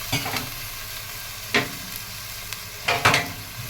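Water poured onto fried onion in a hot pan sets off a sizzle, with several sharp scraping stirs rising above the hiss at irregular intervals.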